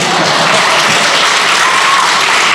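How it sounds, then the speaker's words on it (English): Loud, dense applause from an audience at an interview event with basketball rookies, a steady unbroken wash of clapping that fills the whole stretch without letting up. "Y'all can clap for him if y'all want to."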